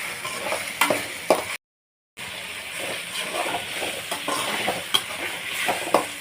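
Ginger garlic paste sautés in a hot pan with a steady, close sizzle and frying hiss, broken by occasional stirring scrapes and a brief dropout to silence.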